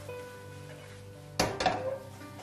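Schezwan noodles being tossed with masala and soy sauce in a pan: after a quiet stretch, a couple of sharp metallic clanks and scrapes of a utensil against the pan, close and brief.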